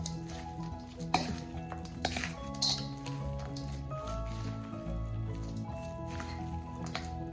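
Ground chicharron being mixed into pancit palabok, the Malabon-style pancit luglug, with soft, wet squishing and stirring noises and light patter, fairly quiet and steady, with no voices.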